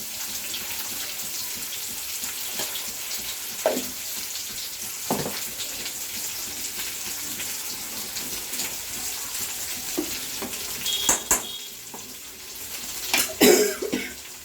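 Elephant foot yam slices fry in a pan with a steady, fairly quiet hiss, and a few utensil clinks and knocks stand out near the end.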